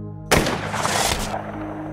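A single loud gunshot bursts out during a film shootout with police, with a sharp onset followed by a ringing, rumbling tail and dramatic background score.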